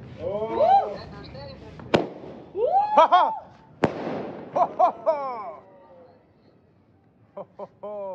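Fireworks and firecrackers at a New Year's Eve celebration with a barbecue: sharp pops and bursts at scattered intervals, a couple of loud cracks, mixed with excited shouting and chatter from people close by.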